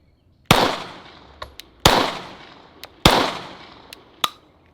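Three sharp shots spaced about 1.3 seconds apart from a Remington 700 rifle firing hand-loaded rounds, each a loud close crack with a short decaying tail, followed by fainter clicks and small knocks between them.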